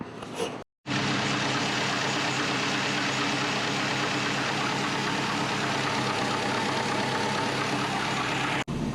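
A compound-turbo Subaru Forester engine warms up at idle, a loud, steady, close rumble with a brief cut near the start and no speech.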